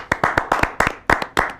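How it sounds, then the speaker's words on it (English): About a dozen crisp, close hand claps in a quick, slightly uneven rhythm, a small group or single person clapping alone with no talk. "I say we give him a round of applause"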